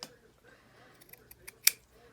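A single sharp snip of scissors trimming paper for a vintage shabby keepsake journal, close and quiet, preceded by faint rustling and small handling sounds.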